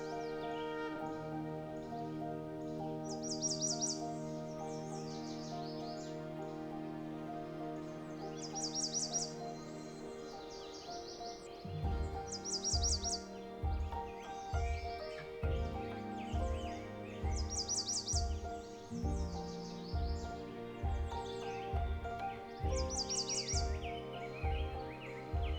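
Birdsong in Canada's boreal forest in Alberta, faint repeated high chirping phrases at a steady interval over a quiet background with a low musical bed, no speech.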